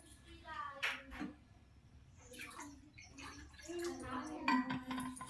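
Water poured into a simmering tamarind fish curry made with tamarind shoots and dried fish, a soft splashing and liquid swirl heard close up while people talk over it.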